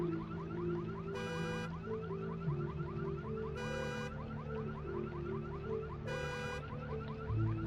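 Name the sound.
car alarm in the video game Dr. Morro's Ritual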